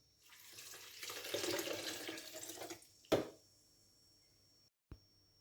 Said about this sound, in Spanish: Le agregamos medio litro de agua.